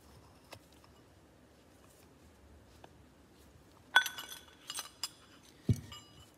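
A small metal washer and plate come off a John Deere 720 or 730 diesel part with a few faint, bright clinks and light metallic taps, mostly clustered near the end and otherwise quiet.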